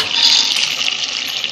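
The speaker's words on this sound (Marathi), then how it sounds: "आता आपण पाणी, गरम पाणी केलेले ते टाकून घेऊया." Hot water pours steadily into a pan of spicy Malvani chicken curry. A loud, close, continuous gush lasts the whole moment with no talking over it.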